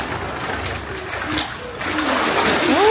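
Water splashes and sloshes as someone dips into a resort swimming pool, with continuous splashing close by and voices talking over it.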